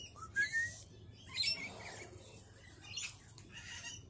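Butcherbirds, lorikeets and magpies gather at a flowering banksia and grevillea feeding tree, giving faint intermittent chirps, squawks and short whistled calls in scattered bursts over quiet background.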